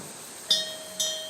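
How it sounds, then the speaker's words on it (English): A temple bell in Samcheok, Korea, struck twice about half a second apart, each strike bright and metallic, ringing with a sustained tone over a quiet background hum. "The chiming of the bell"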